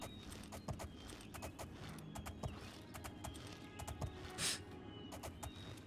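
Rhythmic clip-clop of a horse's hooves in the video game Oblivion taps steadily at a moderate pace, fairly close, with a faint creak and a soft whoosh midway.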